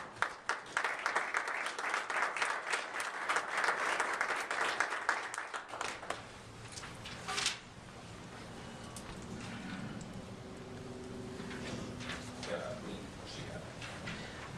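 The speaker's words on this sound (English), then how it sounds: "Please give them a round of applause." Applause rises from a council meeting audience for about six seconds, moderately distant, before fading into room noise and quiet voices.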